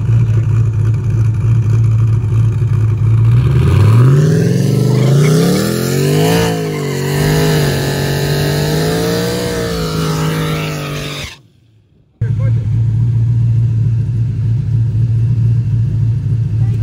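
A street drag race car running without a front bumper, a loud close engine roar climbing through rising revs and shifts for about eleven seconds, cutting off abruptly, then a steady idle-like drone resumes.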